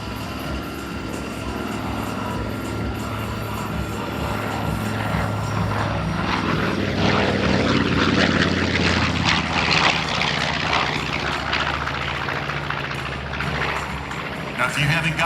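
A B-25 bomber warbird, propeller-driven, passes at an air show in Orlando: a steady, loud engine drone that swells toward the middle as it comes nearer, with a faint voice from the announcer underneath.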